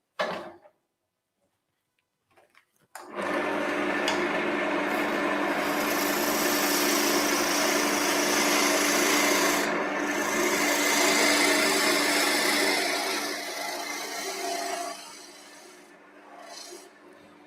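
A wood lathe spins a piece of wood while a spindle roughing gouge takes a light pass, producing a steady, close scraping hiss for over ten seconds that fades near the end, with no talk.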